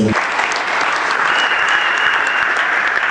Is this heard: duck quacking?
no